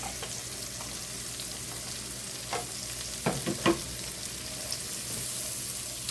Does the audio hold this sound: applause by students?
no